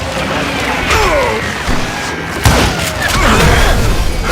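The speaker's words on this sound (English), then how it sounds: "That looked like that explosion barrel." Explosive barrel blowing up in Call of Juarez Gunslinger: a loud crash and boom with clattering debris, sitting among continuous dense game noise with no clear talk.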